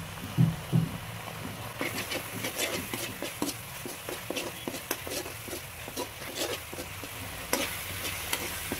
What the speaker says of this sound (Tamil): ஒரு 2-3 நிமிஷம் நம்ம கிண்டி விட்டோமா பச்சை வாசமாக போயிடும்